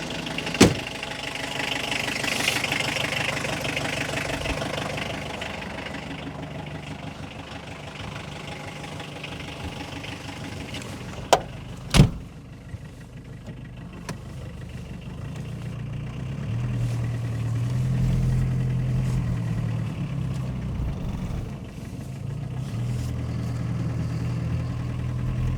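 Car engines idle steadily at low to mid pitch, with a couple of sharp knocks near the middle and a deeper rumble building toward the end as the cars are moved, and no talk.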